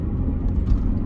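A 2003 Honda CR-V EX AWD on the road, heard as a steady, close low engine and road rumble with faint whirring, no talk.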